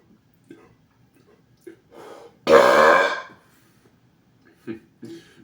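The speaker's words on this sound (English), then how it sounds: "Now, when I do that exhale, it's not letting out the loudest burp." A loud, drawn-out burp of about a second comes from a man in his room, preceded and followed by a few short throat noises and breaths in an otherwise quiet space.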